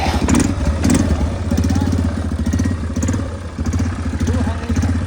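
A small quad bike engine idles and revs close by in the desert near Al Ain, with a steady throbbing pulse, people talking over it.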